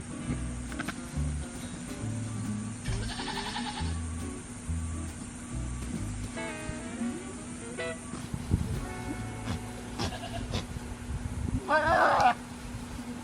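A goat doe in strong heat bleats loudly and repeatedly in a pasture, several drawn-out wavering calls spaced across the stretch, with soft background noise between them.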